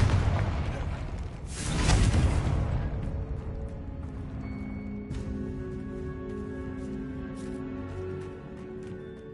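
A Confringo explosive spell bursts in the Hogwarts Legacy video game with one loud booming blast that swells and then fades into a long ringing tail of sustained tones.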